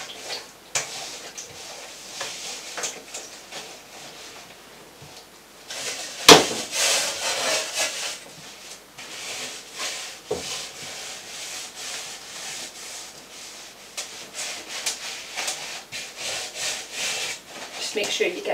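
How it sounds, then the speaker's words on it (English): Kitchen sponge rubbed and spread around the inside of a home oven while applying cleaner, giving repeated scrubbing and wiping strokes up close, with a sharper knock partway through. "just take a normal kitchen sponge and then just spread it around the oven"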